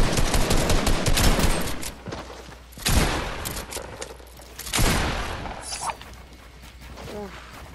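Bursts of gunfire from the video game Fortnite ring out in loud volleys with gaps between, while people talk over the action.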